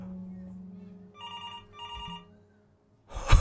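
A telephone rings twice in the video game Before Your Eyes, two bright bursts with a short gap between them over a low hum, then a loud sudden noise follows.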